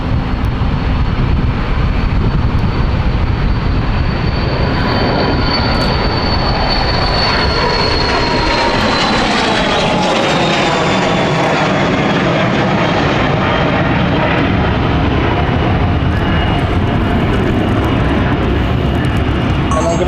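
A fixed-wing airliner at London City airport roars loudly and continuously, its broad engine rumble and whine holding steady for the whole stretch, close and alone with no voices.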